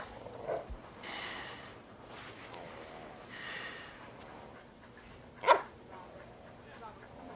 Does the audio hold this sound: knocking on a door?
no